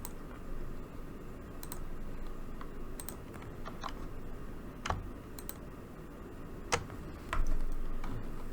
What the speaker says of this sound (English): I will click January 2023 and control-click February 2023